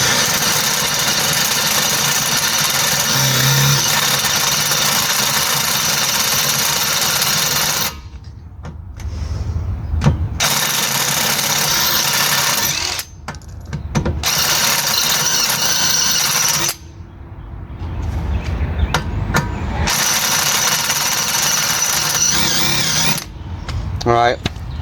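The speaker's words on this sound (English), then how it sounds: "So we're going to drill this bolt out." A power drill whines and grinds in long bursts, drilling out a bolt on a 2013 Honda CR-V, stopping and restarting several times, loud and close, with brief pauses between runs.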